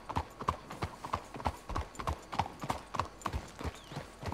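Horse hooves clip-clop at a steady walking rhythm in Red Dead Redemption 2, crisp and close, with regular paired hoofbeats and no talk over them.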